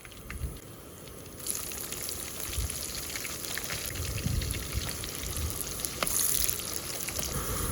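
Onions sauté in hot oil with cardamom and star anise in a pan cooked outdoors by the seashore, a soft continuous sizzle and crackle with scattered pops, fairly quiet and steady without talk.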